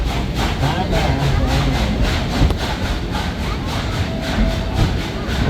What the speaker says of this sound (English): we finally made it on the train, headed to parts unknown near the Great Smoky Mountains